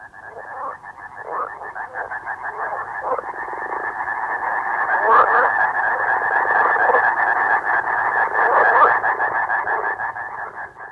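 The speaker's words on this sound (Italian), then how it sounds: "Avrete certamente riconosciuto il gracidio delle rane." Frogs croak in a pond, a dense, continuous chorus of overlapping rasping calls that swells slightly midway and holds steady, close and loud with no voices.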